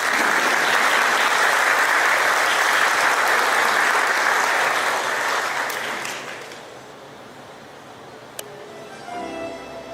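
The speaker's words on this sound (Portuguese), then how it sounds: "Com uma salva de palmas." Sustained applause fills a ceremony hall for the president of an evangelical academy of letters at a diploma event, loud and even for about six seconds before fading to quiet room tone.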